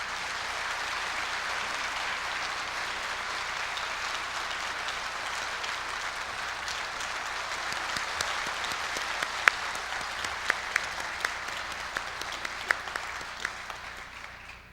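A large ceremony audience at the Korea University presidential inauguration claps steadily for about fifteen seconds as the new president is welcomed to the stage, a dense even roar with a few sharper individual claps standing out near the end.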